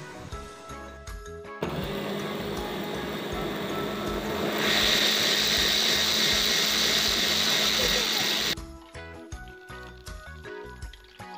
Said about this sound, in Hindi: बाकी जो तरबूज था तो उसको भी ब्लेंड कर देंगे।